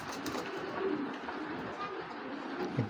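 A big grizzle Afshan male racing pigeon coos softly, with a faint low murmur under a quiet background hiss, over a few seconds.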